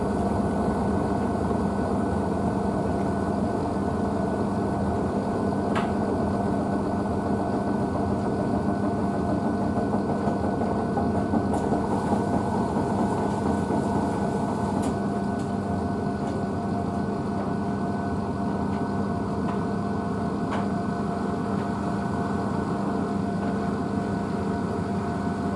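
A Blomberg WNF9448 washing machine spins an unbalanced load of dog bedding and towels, keeping up a loud continuous low rumbling drone with a few scattered knocks and clunks over roughly twenty-five seconds.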